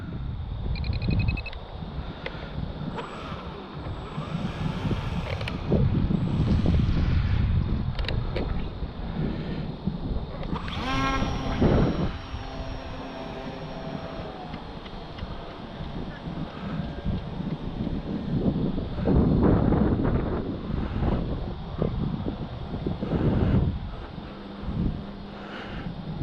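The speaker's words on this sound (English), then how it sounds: "Very windy out today." Gusty wind buffeting the microphone in loud, irregular rumbling bursts, mixed with a faint mechanical whine and occasional clicks.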